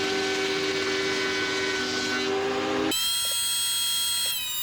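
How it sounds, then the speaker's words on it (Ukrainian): A thickness planer machines wooden workpieces in a woodworking shop, a loud sustained motor drone with a tonal whine that shifts sharply in pitch partway through as the load on the cutter changes. "Таким чином працює рейсмусовий верстат."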